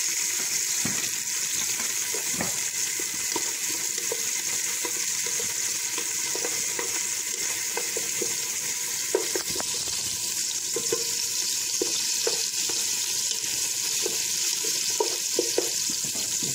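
Chopped onion frying in a pan as the base for a vegetable lentil soup, a steady close sizzle running throughout with faint clicks and stirring scrapes, no voices.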